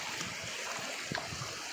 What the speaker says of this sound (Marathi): बघ शेतातून पाणी येत आहे, शेतातून पाणी चाललं आहे